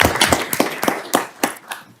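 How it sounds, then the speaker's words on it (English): Applause from the audience at a county board of supervisors meeting, a short burst of scattered, fairly sparse clapping with distinct individual claps, fading toward the end. "Please join me in giving them a round of applause."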